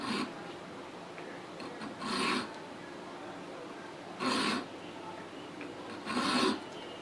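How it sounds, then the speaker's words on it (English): A metal file rasps across the front strap of a 1911 pistol frame during a trigger guard undercut, three separate close strokes, each a short gritty scrape with quiet pauses between. "That's so I don't go too far when filing the front strap side of things."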